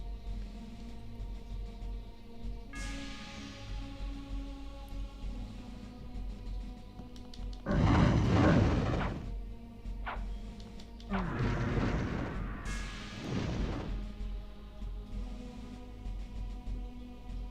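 In Blood Omen: Legacy of Kain on PS1, a swung sword ignites flammable ground. Two loud whooshing bursts of flame rise over a low game ambience, one short and one longer and broken up.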